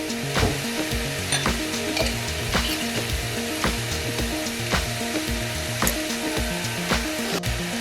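Vegetables cooking in oil in a pan for chicken manchow soup, a continuous sizzle broken by regular rhythmic scraping and knocking, likely a utensil stirring against the pan, close and fairly loud.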